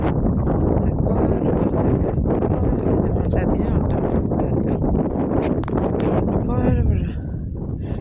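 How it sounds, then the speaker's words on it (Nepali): Strong wind roars steadily by the sea in the Kuwaiti desert, a loud continuous buffeting rush against the microphone that eases slightly near the end, with voices talking over it. "कति धेरै हावा चलिरहेको छ क्या गाइस"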